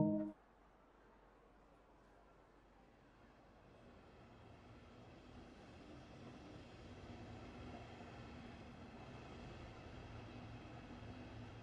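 A train pulls away in the railway simulator Train Sim World 2: a short knock, then a faint, low, steady rumble that slowly swells as it gets under way, with no voices.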